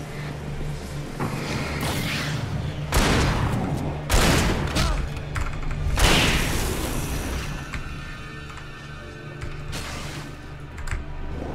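Gunfire in the Alan Wake video game, several heavy booming shots and bursts at irregular intervals over a layered mechanical and whooshing game soundscape.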